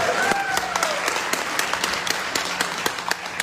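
An audience at a speech in Goa claps in a dense, steady round of applause that fills the short moment without pause.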